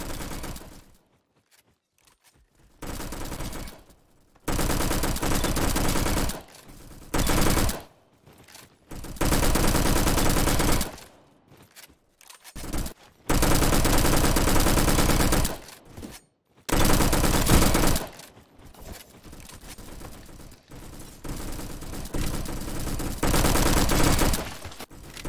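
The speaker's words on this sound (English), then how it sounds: "here's some stock gameplay on the Uzi." Uzi submachine gun bursts in the Roblox shooter Bad Business, loud repeated volleys of rapid fire separated by short pauses across the whole stretch, with no talking.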